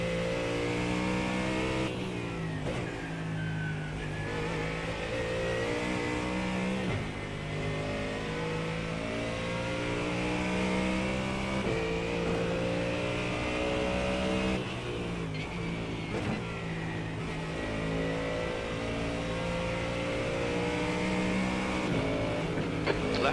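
A GT3 Mustang race car engine in iRacing at the Nurburgring drones steadily and loudly throughout, rising and falling with gear changes and throttle lifts as it runs up on slower traffic.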